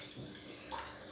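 A tap runs slowly with a faint, steady trickle of water, close by and quiet, lasting about a second.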